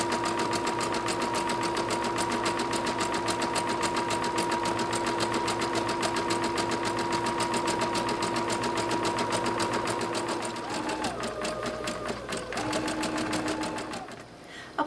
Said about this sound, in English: Now I'm going to zigzag the edge here just to prevent any fraying.